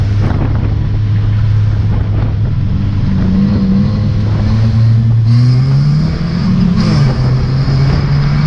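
Several stock car engines roar together on a race track after a restart, their pitch rising and falling as they pass, with gusts of wind buffeting the microphone.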